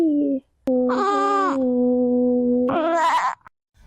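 A baby goat kept as a pet bleats in long, loud, wavering cries right up close, two drawn-out calls with a brief gap, the second rising higher and shakier.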